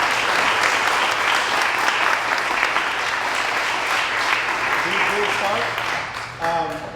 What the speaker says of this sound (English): Please, another round of applause to the candidates for doing this.